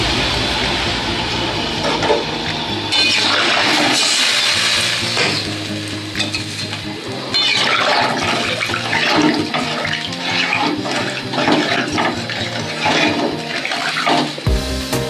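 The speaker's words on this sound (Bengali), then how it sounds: "আমি এবার ঝোলের জল দিয়ে দিলাম" Water poured into a pan of fish curry being cooked, with a steady hiss and splash of liquid hitting the hot pan and sizzling, continuous and fairly loud, close by.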